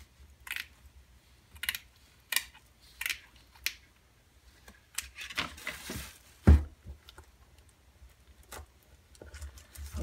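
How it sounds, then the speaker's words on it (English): Sharp snipping clicks from small scissors cutting shoe material come one after another in an uneven rhythm, close up and fairly quiet, with one louder snap partway through. "Scissors, these little damn things here gonna break my hand."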